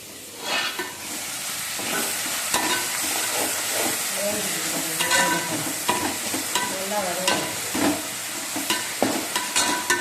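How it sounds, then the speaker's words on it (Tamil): Tomatoes sauté in a pan for a tamarind gravy with black-eyed peas and dried fish, giving a steady sizzle under repeated scraping stir strokes from a spoon, close and fairly loud throughout. "நல்லா தக்காளி நல்லா வதங்கி வச்சுக்கோங்க"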